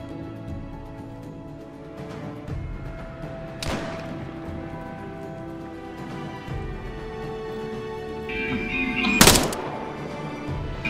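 A sharp, loud gunshot cracks out near the end over a steady background hum from the video game Arma 3, with a fainter thump earlier.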